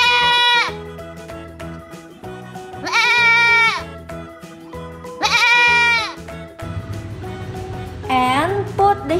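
Toy or cartoon sheep bleat loudly three times in long wavering cries, then a shorter fourth bleat begins, with a low musical backing between the calls.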